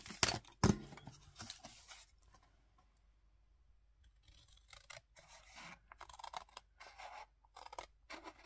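Scissors cut out a paper label for a handmade card. There are a few sharp close snips at the start, then softer scattered snipping and paper rustle, quiet overall with no voice.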